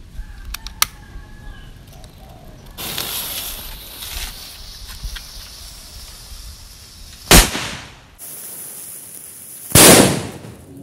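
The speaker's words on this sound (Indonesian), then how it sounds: "Mercon tongkat kerasakti. Kita nyalakan." A small mini woodpecker firecracker is lit outdoors in wind: a hissing fuse sputters, then two sharp, loud bangs burst several seconds apart, with faint rooster crowing in the background.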